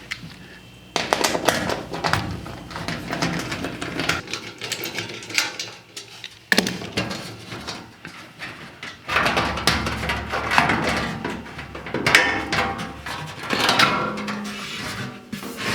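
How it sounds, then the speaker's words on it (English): Panels and fasteners of a heavy commercial washing machine rattle and clunk as its back cover is taken off, with irregular close metallic clicks, scrapes and thumps in bursts and no talking. "So I'm going to take off the back cover real quick."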